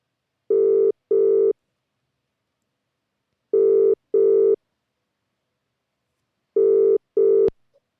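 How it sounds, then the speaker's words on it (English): A telephone rings loud and close in three evenly spaced double-burst rings, each a steady buzzing tone, with silence between, ending in a sharp click as the call is answered. "my phone went off in my pocket"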